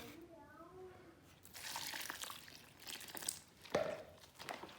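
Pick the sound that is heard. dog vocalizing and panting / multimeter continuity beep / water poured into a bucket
water poured into a bucket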